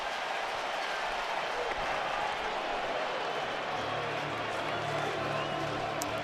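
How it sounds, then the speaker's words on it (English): A Wrigley Field baseball crowd in Chicago cheers and applauds steadily during a playoff game against the Brewers, a dense, continuous roar of clapping and voices with a low rumble underneath in the later seconds. "Boy, this crowd is electric today. They are spot on their feet again."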